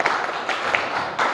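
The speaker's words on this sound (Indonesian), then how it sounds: "Tepuk tangan." A classroom group applauds in a brief burst of scattered hand claps, rising and falling in a few uneven waves at close range.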